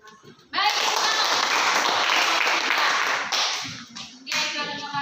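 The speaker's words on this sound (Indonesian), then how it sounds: "Ya, tepuk tangan sekali lagi untuk kelompok 3." Classroom audience claps after a group's class presentation, a sudden burst of loud, dense applause that carries on for several seconds and thins briefly near the end before picking up again.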